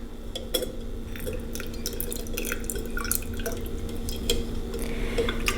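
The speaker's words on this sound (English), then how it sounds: "Just have another container and a strainer, and we're just going to pour it." Cherry vanilla simple syrup with cherry pulp being poured through a strainer into another container, a steady soft trickle and drip of liquid heard close up, with no voices.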